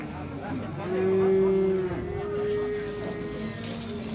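Seven-to-eight-month-old white-headed calves at a livestock market give a loud, drawn-out moo followed by a second, softer call, with faint crowd voices in the background.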